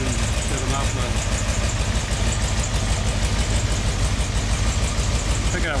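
A car engine idles steadily during a dwell adjustment, with air leaking into the muffler, a loud continuous rumble with rapid even pulsing, as someone talks over it.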